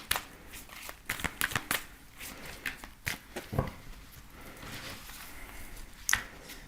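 Tarot cards shuffled by hand in a run of soft riffling patters and flicks, close and steady, with no talking.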